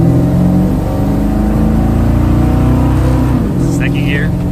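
A 1987 Dodge W150 truck with longtube headers accelerating hard in first gear, a loud, steady engine drone heard from inside the cab, with voices briefly over it near the end.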